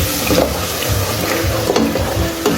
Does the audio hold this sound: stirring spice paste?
yes